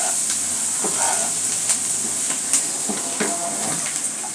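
Small chopped chicken pieces for a bhuna hiss and sizzle steadily in hot oil, a loud continuous frying sound with faint clinks and stirring scrapes, close by and without talk.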